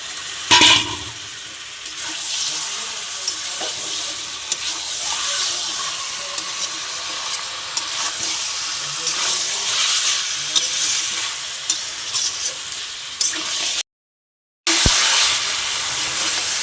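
Boiled potatoes added to chicken kosha sizzle and fry in a pan, a steady broad hiss running throughout with occasional stirring clatter and a brief break near the end.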